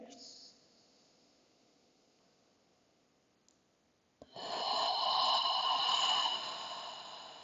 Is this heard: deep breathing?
yes